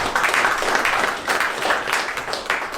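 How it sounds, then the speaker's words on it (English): Audience at a stand-up comedy show applauding, a brief burst of dense clapping that holds steady for a few seconds. "could you guys give a round of applause to Jimmy"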